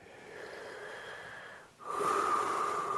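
A slow breath flows out and then is drawn back in during a circular breathing exercise, each phase a steady airy hiss with a brief pause between them, close and soft with no talking.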